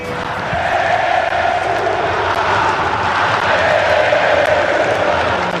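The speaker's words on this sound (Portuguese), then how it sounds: "A vaia veio aos 47 minutos do segundo tempo" A large football crowd at the Maracanã booing late in the second half of a Flamengo home match against Barueri, a loud, sustained mass of voices that fills the whole stretch without a break.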